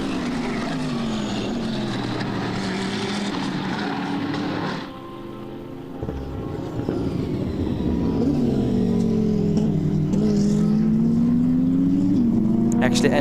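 GT4 BMW M4 touring cars race at BalatonPark, engines roaring loudly with rising and falling pitch as they pass and shift, while a commentator talks over the noise.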